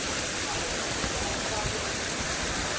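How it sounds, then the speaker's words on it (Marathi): Heavy rain pours down at the Taj Mahal with a dense, constant roaring hiss of water close by, and a voice is faintly mixed in beneath it. "पूर्ण पावसात पाणी पडायला लागले"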